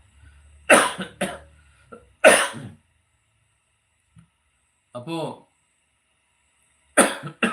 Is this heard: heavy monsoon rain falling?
no